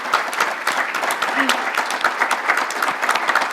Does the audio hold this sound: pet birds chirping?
no